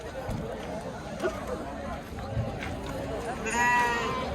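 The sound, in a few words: bleating of a fighter lamb at a sheep market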